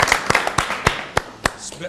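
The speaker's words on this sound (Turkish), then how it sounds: "Peki alkışlayalım arkadaşlarımızı." Slow, sparse clapping from a small group during a hockey-themed children's show, about seven distinct sharp claps spaced roughly a quarter second apart, close and loud over a quiet background.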